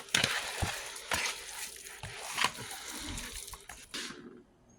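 Seasoning being mixed with onion and garlic powder for chicken alfredo, a series of wet stirring and scraping strokes in a bowl, moderately close, with irregular bursts before it fades out.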